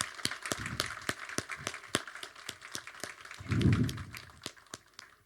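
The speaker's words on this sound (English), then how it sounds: "Let's give him a big round of applause." An audience at an ocean-conservation event applauds with sparse, distinct claps rather than a dense ovation, joined midway by a brief swell of cheering voices.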